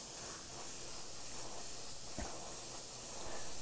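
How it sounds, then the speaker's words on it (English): An airbrush sprays black paint in a fairly quiet, continuous airy hiss, with a faint click partway through. "I'm just going to spray as if I was kind of doing this paint normally"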